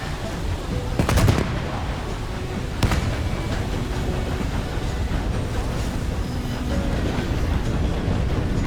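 A train in the video game Red Dead Redemption 2 rumbles steadily throughout, with a burst of sharp gunfire-like cracks near the start and another single bang shortly after.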